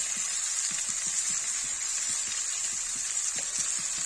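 Eggplant fries in a pan with a soft, continuous hiss, small pops and crackles ticking irregularly beneath the steady sizzle.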